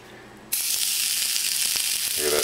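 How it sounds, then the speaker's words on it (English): A slice of scrapple suddenly starts sizzling in a hot pan, a bright crackling hiss that begins abruptly and holds steady at close range. "And it's starting to sizzle"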